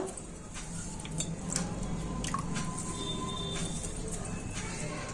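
Wet squelching and soft dripping as soaked semolina is squeezed by hand for idli, with faint ticks and steady background hum, fairly close.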